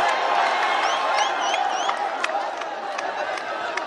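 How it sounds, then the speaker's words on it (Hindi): A large Karachi crowd applauds and cheers in a steady, dense roar of clapping, with shrill whistles rising above it near the start and sharp claps standing out later. "कराची वालों के लिए जोरदार तालियां"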